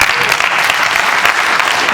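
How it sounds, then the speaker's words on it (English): An audience at a keynote talk claps in a dense, loud, sustained burst of applause, close and continuous for about two seconds. "Almost every lady clapped except for Karen."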